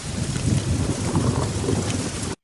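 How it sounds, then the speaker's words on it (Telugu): Rain and thunderstorm sound effect: a steady, dense wash of rainfall with deep low rumbling throughout, loud and continuous, ending abruptly. "ఇక్కడ మనం వాన పడినట్టు సౌండ్ ఎఫెక్ట్స్ అనేవి యాడ్ చేద్దాం"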